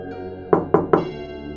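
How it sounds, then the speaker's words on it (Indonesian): Three quick, evenly spaced knocks ring out sharply against an iron gate, close and fairly loud, over a faint steady hum. "Ia mengetuk pintu pagar besi itu 3 kali."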